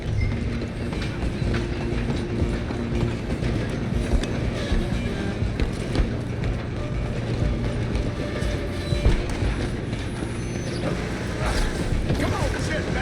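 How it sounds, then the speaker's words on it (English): A moving train in Red Dead Redemption 2 rumbles and rattles steadily, its wheels clacking on rails in a dense, continuous mechanical drone with faint shouting underneath. "You stop them, I'll stop the train."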